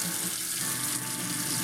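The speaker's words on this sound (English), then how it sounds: "drain the potatoes" Water rushes steadily into a kitchen sink as potatoes are drained from a pot, a continuous close splashing pour with no talking.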